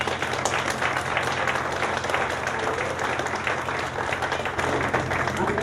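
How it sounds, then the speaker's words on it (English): A college awards ceremony crowd claps for graduates who have just completed their degrees, a steady, full round of applause that holds at an even level from start to finish. "Let's give them a round of applause."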